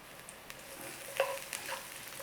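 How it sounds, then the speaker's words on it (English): Garlic frying in a little olive oil in a pan, a soft, steady sizzle with a few brief stirring clinks, quiet and close with no talk. "In there, a little bit of olive oil. In there, our garlic."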